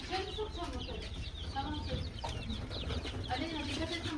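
Many small chicks cheep and peep continuously nearby, high chirps overlapping, with a person's voice talking underneath.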